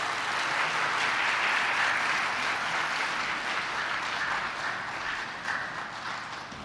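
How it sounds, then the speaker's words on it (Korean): Church congregation applauding steadily for a guest speaker, a dense even wash of many hands clapping that holds at full strength for several seconds before easing slightly toward the end. "우리 뜨겁게 박수하며 모시도록 하겠습니다."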